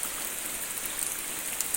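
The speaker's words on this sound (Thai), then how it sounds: "ฝนตกนะ ตอนนี้ก็ยังตกอยู่" Steady rain falls outdoors, a continuous even hiss of drops on surfaces, fairly soft and unbroken, with no voices.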